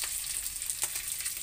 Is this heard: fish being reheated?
yes